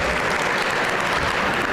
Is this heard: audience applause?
yes